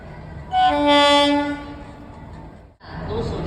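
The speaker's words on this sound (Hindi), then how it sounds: "जानकी एक्सप्रेस प्लेटफॉर्म नंबर 3 पर आ रही है।" Janki Express train arriving at platform 3 of an Indian railway station sounds a loud, sustained multi-tone horn, followed by rumbling rolling noise and station ambience.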